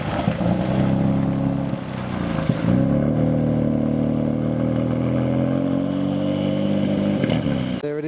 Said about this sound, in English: There it is, the wide body E46 departing the show